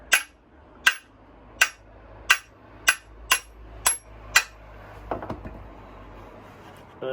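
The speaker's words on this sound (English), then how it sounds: "Hammer time!" Eight sharp, evenly spaced hammer blows on metal, knocking a part out during Marcos Mantula brake and clutch work, followed by softer scraping and clatter.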